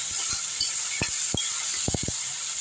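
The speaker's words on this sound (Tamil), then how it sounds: "இந்த தக்காளி பியூரி எடுத்து ஊற்றிக்கலாம். நல்லா வதக்கிடலாம்." Tomato puree hisses and sizzles steadily in a hot pan as it is sautéed, a constant bright frying hiss broken by a few soft stirring knocks.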